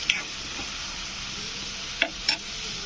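Sliced onions fry gently in oil in a pan for pakodi curry, giving a soft, even sizzle, with a few light clicks of a spoon against the pan; quiet and close, no talking.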